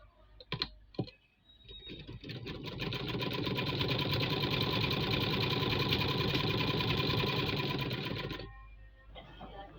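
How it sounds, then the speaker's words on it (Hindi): A sewing machine runs steadily for about six seconds, stitching a half-inch folded hem on a round garment edge, after a few sharp handling clicks; the rapid mechanical whirr then stops abruptly. "फोल्ड करने के बाद इस तरह से सारे में हमने स्टिच लगानी है।"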